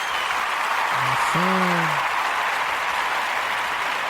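Audience applause fills the whole stretch as a steady, dense wash of clapping, with a voice briefly speaking over it partway through.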